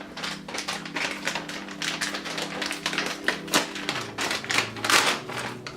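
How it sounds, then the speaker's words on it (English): Cinnamon cookies crushed by hand for a vegan s'mores dessert, giving a dense run of crisp crackling taps and crunches, close and fairly quiet, with no talking. "our cinnamon cookies are all crushed up"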